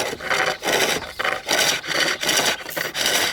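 Flat chisel cutting wood on a lathe while turning a rolling pin: a close, rhythmic rasping hiss that repeats in about six even strokes, with short gaps between them and no talking.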